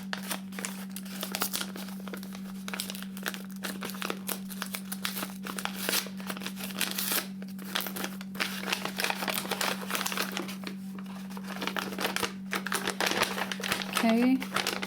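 Crinkling and rustling of a paper bag as its glued bottom is worked loose, a steady papery crackle running throughout under a constant low hum, with a brief tearing sound near the end.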